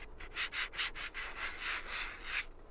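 Repeated scratchy rubbing strokes of a mouse on a textured SteelSeries QCK Hard pad, close and steady, a rough sliding texture swept back and forth about ten times with no voices.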